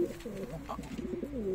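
Pigeons coo in a close, continuous murmur inside a loft of racing birds, with overlapping low throaty calls rising and falling steadily throughout.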